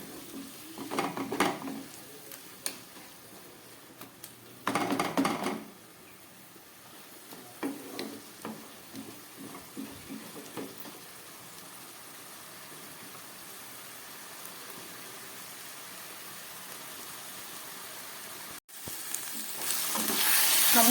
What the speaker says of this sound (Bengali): সমস্ত মশলা দিয়ে আমি আরো 2 মিনিট এটাকে খুব ভালো করে ভেজে নিচ্ছি।